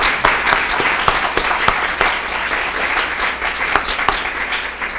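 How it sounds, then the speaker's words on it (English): A lecture audience applauds, a loud, close burst of many hands clapping with sharp individual claps standing out over a continuous roar. "can we just give Abigail a round of applause for everything that she's done?"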